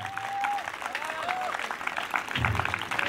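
Congregation at a church crusade clapping and cheering for the Lord, a dense crowd applause with voices rising over it, building louder toward the end.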